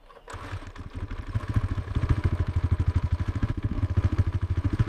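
A KTM Duke 390 motorcycle engine catches and settles into a fast, even, throbbing pulse, close and fairly loud, with a light mechanical clatter over it.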